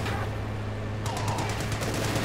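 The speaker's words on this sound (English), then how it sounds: "rear machine gun actually firing into the rear of the scout car here" Rapid machine gun fire from Company of Heroes 2, aimed at the rear of a scout car, rattles in quick bursts inside dense battle noise and a low rumble, fairly distant and mixed in with the constant game sound.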